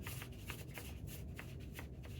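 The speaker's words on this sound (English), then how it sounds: "you can hear that sound from me painting over the paper" A watercolor brush sweeping a wet yellow wash across paper, giving a soft continuous scratchy rustle with faint periodic strokes, close and steady with no voices.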